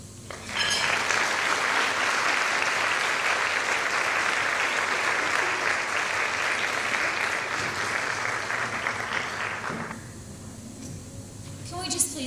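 Audience applause at a Women of Faith dinner, a large room clapping steadily and loudly for about nine seconds before fading into murmuring and scattered claps.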